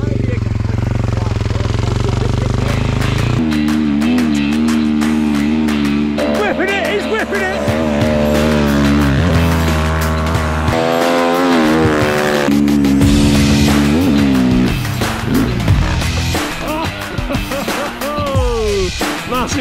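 Snow bike engines roar loudly as the machines climb a snowy hill toward a chute, revving and changing pitch continuously throughout, with a voice partly audible underneath.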